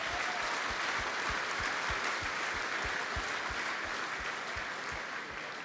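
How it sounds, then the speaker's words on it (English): Applause from a room full of people at a sports club awards night, a dense, steady roar of clapping with sharp individual claps standing out, loud throughout and slowly easing toward the end. "so I give you boys a round of applause"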